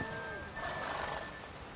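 Roach, a horse in The Witcher 3, gives a short whinny with wavering tonal calls over a steady game background; a faint voice may sit underneath.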